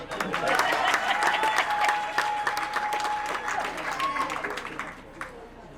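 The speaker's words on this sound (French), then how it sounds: "Applaudissez pour la femme maintenant." A crowd at a Women's Day launch event in Bwanebwa claps steadily for a woman, dense sustained applause with a whistle-like tone and shouts mixed in, loud and close throughout.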